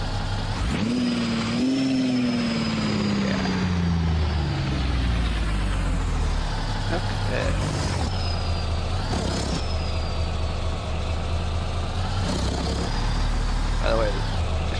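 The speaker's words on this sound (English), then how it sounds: "I think this truck sounds nice." Modded truck engine in American Truck Simulator, a deep droning rumble that rises and falls as it revs and shifts, running steadily throughout while someone says a couple of brief words over it.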